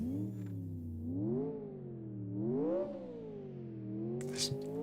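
A GT1-style race car's V8 in the racing game Live For Speed revs up and down in repeated rising and falling sweeps, steady and close, with a flat-plane-crank character and a brief burst of noise near the end.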